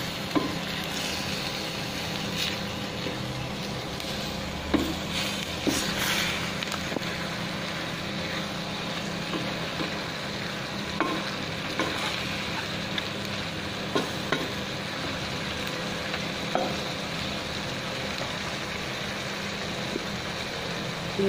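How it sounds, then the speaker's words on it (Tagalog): Beef stew is stirred in a frying pan at home, a steady low sizzle and scraping rumble with faint scattered clicks of the utensil continuing throughout. "Haluin"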